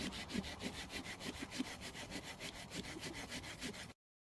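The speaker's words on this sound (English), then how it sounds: "So I'm just going to cut through the log here." A Mossy Oak handsaw cuts through a log in steady, rapid back-and-forth strokes, a rhythmic rasping of teeth in wood that runs close and even for about four seconds before stopping abruptly.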